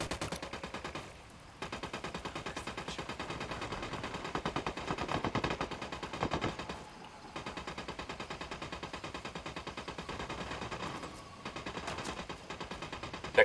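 A mounted gun fires in the video game Ghost Recon: Wildlands in long, rapid automatic bursts, broken by brief pauses. The rhythmic rattle is steady and moderately loud.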